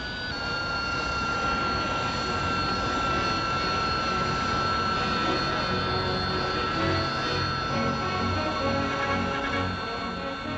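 Kestrel vertical take-off jet aircraft engine roars in a steady, loud, continuous whine and rumble with strong tonal hum, sustained throughout without pause.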